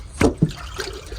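Water drawn in from outside the hull into a deadbait locker on a Quicksilver 625 Pilothouse boat, heard as a couple of short gurgling glugs followed by a soft trickle.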